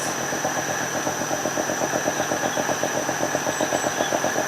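Engine driving an asynchronous generator runs steadily close to the microphone, a continuous mid-pitched drone with a fast regular pulse and faint fluctuations as it is throttled up slightly.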